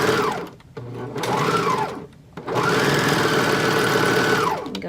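A sewing machine stitches skirt fabric in three bursts, its motor whirring up and winding down between short pauses, close and steady with no talk.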